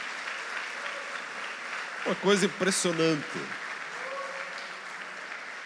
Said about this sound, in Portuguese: Vamos dar um aplauso para os dois lá atrás,